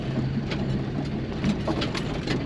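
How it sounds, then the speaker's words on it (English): A 2006 Jeep TJ Rubicon engine chugs steadily at low revs in first gear on a rough off-road track, a continuous low rumble with faint rattles throughout. "Just kind of chugging along in first gear here."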